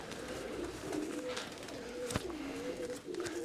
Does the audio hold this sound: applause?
no